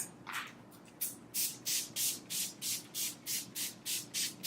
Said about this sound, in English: I'm using the Urban Decay De-Slick, and I'm just gonna spray this all over my face.